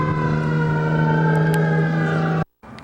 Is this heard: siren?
yes